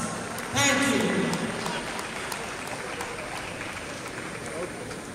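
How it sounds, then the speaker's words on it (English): An audience at a higher education administration gathering applauds the registry staff, a broad wash of clapping rising suddenly and holding steady across the hall, with a voice briefly heard near the start. "And you please give yourself a big round of applause."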